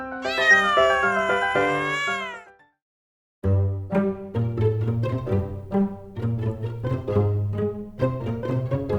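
Domestic cat giving one long, loud, wavering meow up close, then a brief silence before a run of quicker, shorter mews and chirps.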